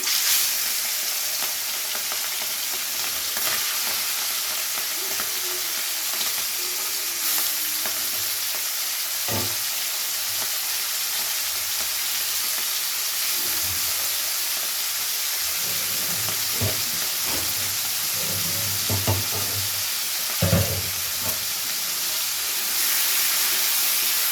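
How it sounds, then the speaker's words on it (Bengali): Prawns coated in salt and turmeric frying in hot mustard oil, a continuous loud sizzle and hiss with occasional stirring clatters and spatter bursts, no voices. "এবারে প্রথমে চিংড়ি মাছটা ভেজে নিচ্ছি।"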